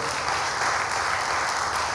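Church congregation applauding during a worship service, a steady dense wash of clapping that runs unbroken and fairly loud throughout, with no voices rising above it.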